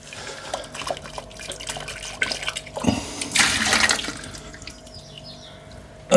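Hot water from a kettle is poured into a home-brew vessel for an amber ale kit: a short, close liquid rush and splash that swells to a bright burst midway, then tapers off over low room noise.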